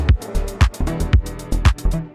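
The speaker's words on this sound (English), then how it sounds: "because we're back at the house record, which again just sounds like this." House dance record playing loud in the mix, punchy four-on-the-floor kick drums thumping at a steady tempo with bright percussive hits and synth layers between them, no voices.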